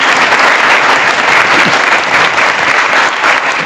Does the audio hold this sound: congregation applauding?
yes